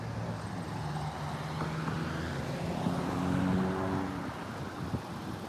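A car engine idles and hums steadily nearby, its low drone swelling slightly midway, with faint outdoor background noise.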